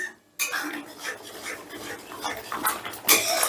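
A spice paste mixed with yogurt and cashew is stir-fried over raised heat in a pan for a rohu fish-tail curry, with close sizzling and repeated metal spoon scrapes and clinks against the pan after a brief silent start.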